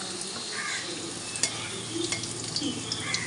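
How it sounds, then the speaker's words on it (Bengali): Potatoes fry steadily in hot oil, a dense close sizzle, while a ladle stirs and lifts them out with small scraping clinks. "লালচে করে আমি ভেজে নিয়ে একটা হাতা দিয়ে তেলগুলো ছেঁকে একটা প্লেটের মধ্যে আমি সমস্ত এই আলুগুলোকে তুলে নেব।"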